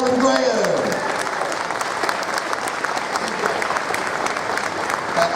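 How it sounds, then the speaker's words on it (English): Applause from the audience at a GoldenEye 20th anniversary panel at Play Expo Manchester, dense and sustained clapping throughout, with a voice fading out at the very start. "can we have a huge round of applause for Carl and Graham?"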